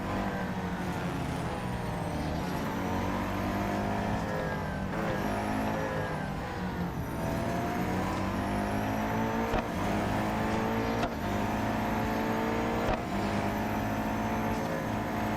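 A Koenigsegg Jesko race car engine in a racing video game roars continuously, loud and close, revving up through the gears with sharp shift drops every couple of seconds on the final lap.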